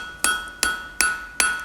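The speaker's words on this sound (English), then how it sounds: "so I can change the angle of my hammer, come in flatter, and then turn it through 90 degrees and forge that material in." A blacksmith's hammer forges a hot bar into a set eye hook, the angle changed to strike flatter. Four close, ringing metallic blows fall at an even, steady pace with no talking.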